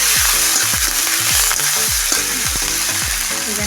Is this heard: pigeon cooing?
no